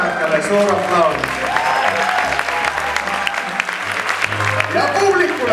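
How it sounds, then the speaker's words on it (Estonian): Audience applause for music teachers at a film-songs concert, steady dense clapping from a crowd with a low musical drone and some voices beneath. "Ja Meero muusika õpetajatele suur aplaus."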